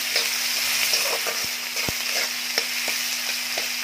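Finely chopped onion fries in a pan for a dry broad-bean pod stir-fry, making a steady hiss of sizzling oil with occasional stirring clicks and a low constant hum, with no talking.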